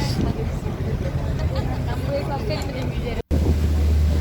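An Istanbul Islands ferry underway toward Heybeliada, its steady engine rumble and rushing water blending with strong wind buffeting the microphone, a continuous loud wash with one brief dropout near the end.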